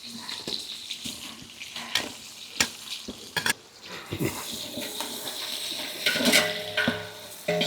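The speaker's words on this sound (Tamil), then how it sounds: "கடலெண்ணெய் பட்டை போடுறேன் கிராம்பு பொட்டாச்சு" Cinnamon and cloves fry in hot peanut oil in a village kitchen, crackling and sizzling with scattered sharp pops and stirring clatter, mostly steady and fairly close.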